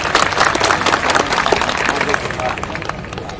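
Close, loud audience applause at a launch event for the Revolt RV electric motorcycle in Ahmedabad: brisk, dense clapping with a murmur of crowd voices mixed in.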